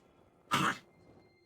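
One short, close cough bursts out on its own, a single harsh rasp amid an otherwise quiet room.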